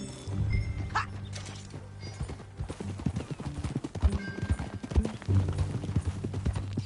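Horse hooves clip-clop at a steady walking pace over a rough surface in the video game Red Dead Redemption 2, with creaking tack and occasional thuds, fairly close and moderately loud.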